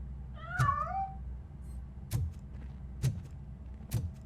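A cat meows once in the video game RoboCop Rogue City, a short rising-falling call near the start, followed by several sharp soft thumps at intervals over a low ambient hum.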